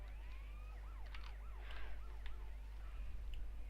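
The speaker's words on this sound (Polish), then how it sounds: "Włączam syrenę, być wkurzająca." A police car siren in GTA San Andreas wails in rising and falling sweeps, fairly faint and steady against a low engine hum, with no voices over it.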